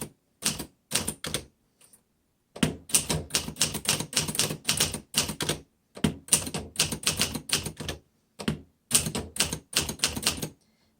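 A 1951 Remington Quiet Riter vintage typewriter is typed on in fast bursts of crisp, loud key strikes, separated by brief pauses, with no talking.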